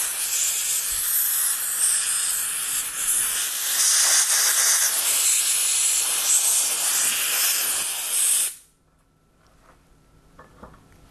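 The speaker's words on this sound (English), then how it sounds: "Now I shall use the airline just to make sure there's no other little bits" Compressed air from a workshop air line blasts through a Badger 150 airbrush to clear out debris, a loud continuous hiss lasting about eight seconds before cutting off to near silence with faint rattles.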